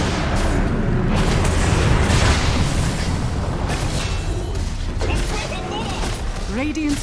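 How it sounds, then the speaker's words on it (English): A Dota 2 tower collapsing in a match, heard as booming, rumbling explosive noise with dense battle effects, loud throughout, over which a voice speaks. "Radiant's middle tower has fallen."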